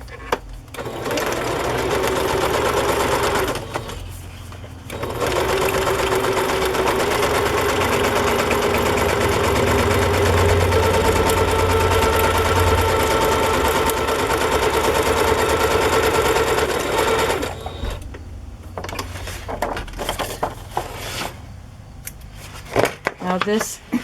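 A sewing machine stitches paper pages together for a journal, running in long steady bursts with brief pauses, close and fairly loud, with a few softer stops and starts near the end.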